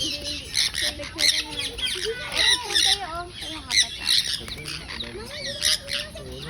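A whistling duck squawks repeatedly while bathing in wet leaves, its harsh calls coming in bursts at close range with brief pauses between them.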